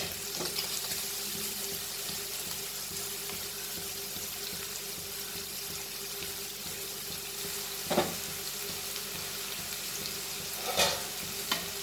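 Finely chopped onions fry in hot oil in a pan, giving a steady, soft sizzle throughout with a couple of brief louder clatters of stirring.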